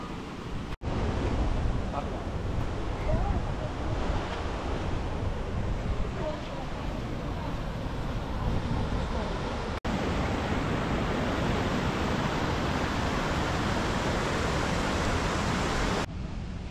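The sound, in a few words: waterfall in Chapada dos Veadeiros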